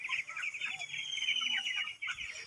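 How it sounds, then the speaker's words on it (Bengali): Farm chickens cluck and chirp steadily and fairly close, with overlapping calls forming a continuous busy flock chatter and no speech. "এখন সুস্থ মুরগি দেখেন কত সুন্দর মতো ঘুমাইতেছে।"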